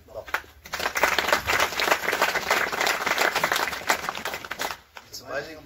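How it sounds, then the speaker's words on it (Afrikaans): A church congregation claps hands together in a sustained, fairly loud round of dense applause lasting several seconds, beginning abruptly and fading out near the end, with faint voices mixed in. "'n lekker hande klap."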